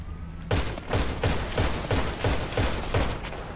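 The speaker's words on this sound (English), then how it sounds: "he's trying to get up towards where he can shoot me with a minigun" Rapid minigun fire in GTA V Online, a steady run of evenly spaced bursts about six per second after a brief quiet start, loud and close with no talking.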